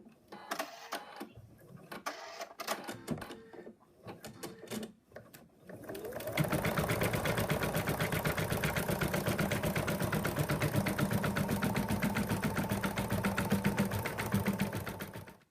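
An embroidery machine stitches the final colour outline, the shaping of the back piece on an in-the-hoop moose design, running steadily and loudly for the last nine seconds after a stretch of quieter handling noises.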